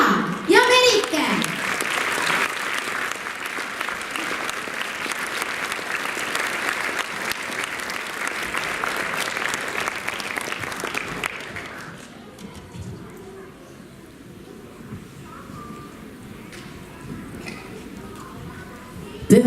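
Audience applause at a children's dance club performance, loud sustained clapping for about twelve seconds before fading to quieter room noise with scattered voices and a few claps.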